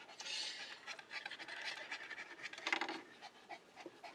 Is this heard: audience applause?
no